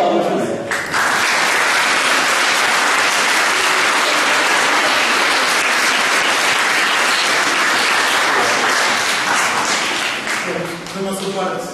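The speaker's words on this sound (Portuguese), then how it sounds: "já se parece que são palmas, não é?" Sustained applause from a congregation at Mass in Espinhel, a loud, even wash of many hands clapping for about ten seconds, with brief speech just before it starts and again as it fades.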